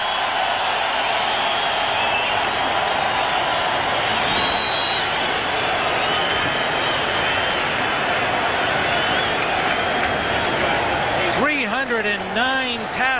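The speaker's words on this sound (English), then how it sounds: "the crowd gives Kosar a standing ovation" A large football stadium crowd roars in a sustained, dense wash of cheering for a standing ovation, loud and steady throughout, with a broadcast announcer talking over it near the end.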